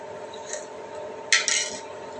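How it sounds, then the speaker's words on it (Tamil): A spoon stirring a drink in a glass, giving a faint clink early on and then a short, bright cluster of clinks against the glass, close by over a steady low hum, with no talking. "ஏ கலக்கு கலக்கு கலக்கு ஏ குடஞ்சி குடஞ்சி கலக்கு கலக்கியாச்சு"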